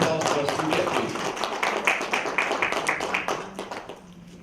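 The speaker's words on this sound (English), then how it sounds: "Let's give a round of applause for Swee Kiat, please" A Toastmasters club audience claps for a speaker heading to the stage, a brisk burst of many hands that is loud at first and fades over the last second.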